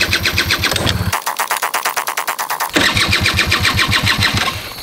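A scooter engine cranks and catches, sputters and pulses through a short uneven run, revs briefly, then fades out as it dies, loud and close with no talk.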